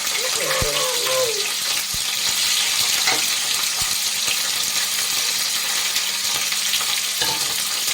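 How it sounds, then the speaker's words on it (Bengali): Green bean pieces hit hot oil in a wok for a bean and peanut dish, giving a steady hiss and crackle that holds throughout, with a few clinks of a utensil near the start. "তেল গরম হয়ে গেছে, এবার আমি শিমের টুকরোগুলো দিয়ে দেব"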